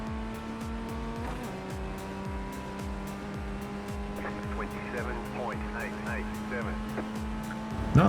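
Formula Ford 1600 open-wheel race car in the iRacing sim, its engine droning steadily with gear changes and a rising note near the end, while a voice talks over it.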